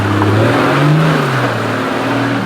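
A car engine revs loudly in first gear while crawling around a muddy bog hole on a cheap off-road track, its droning tone rising and falling steadily without any break.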